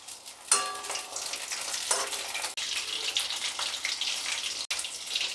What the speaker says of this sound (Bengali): আমি কম আঁচেরই ভাজবো